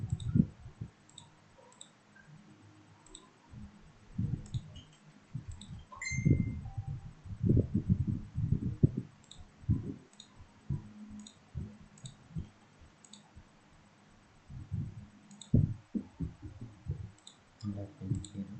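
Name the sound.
computer mouse clicking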